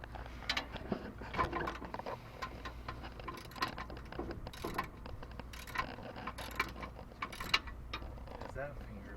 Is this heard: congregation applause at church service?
no